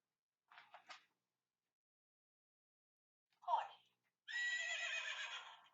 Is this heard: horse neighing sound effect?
yes